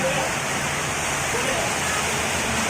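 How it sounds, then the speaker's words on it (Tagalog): Heavy rain pours in a steady, dense, loud hiss across the whole stretch, broad and unbroken like a downpour, with no speech standing out. "Ang lakas ng ulan."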